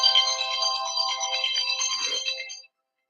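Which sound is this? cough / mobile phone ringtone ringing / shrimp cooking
mobile phone ringtone ringing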